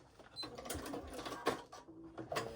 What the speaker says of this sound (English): I'm stitching forward off that raw edge and back stitching that little piece